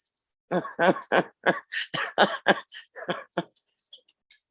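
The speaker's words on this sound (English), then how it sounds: "that's a cough from smoking too much from stress" A smoker's run of harsh, repeated coughs in quick succession, close and fairly loud, trailing off into a few softer hacks.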